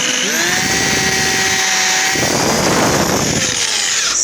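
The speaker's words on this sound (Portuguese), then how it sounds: "agora a gente vai furar uma aqui para mostrar para vocês aqui" A power drill bores a hole through a car's painted body panel for a parking sensor, a steady loud whine that shifts pitch partway through as the bit cuts, heard alone.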